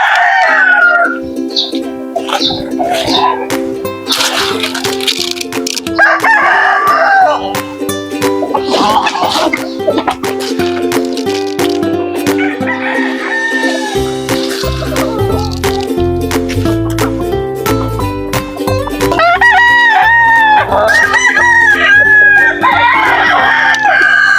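A rooster crows loudly and native and Texas chickens cluck up close, layered over a thick, noisy musical backdrop with scattered clicks.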